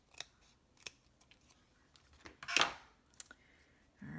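Scissors snip paper dimensional adhesives in half for a dragonfly card, a handful of sharp, close, quiet cuts with soft handling rustle between them.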